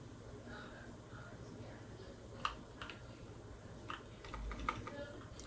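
Keys clacking on a computer keyboard as a Linux terminal command is entered, a few sparse clicks and short bursts over a steady background hum, fairly quiet and close.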